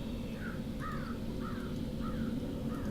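A crow in the video game Dreamfall caws five times in a steady, evenly spaced rhythm, clear and moderately close over a quiet, low ambient hum, with no talking.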